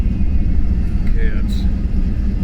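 Car driving and turning into a Walmart parking lot, a steady close low engine and road rumble with faint brief chirps over it.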